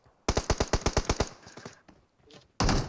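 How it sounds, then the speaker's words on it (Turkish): Automatic gunfire in the PUBG Mobile shooter game: a rapid burst of about ten loud, evenly spaced shots, a brief lull of faint sounds, then another burst starting at the end. "Adam önümde bana sıkıyor."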